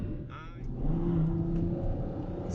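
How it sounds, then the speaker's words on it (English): A 731 hp front-mounted V12 in a Ferrari F12 Berlinetta pulls hard on UAE mountain roads, a sustained rising engine drone heard from the cabin with no talk. "this is the F12 Berlinetta, a front engine Ferrari"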